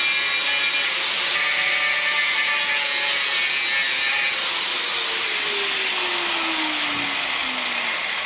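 Metal parts being cut off Mopar body dollies in a garage, a steady abrasive sawing and grinding that runs continuously at close range, with a falling pitched whine partway through and no talk.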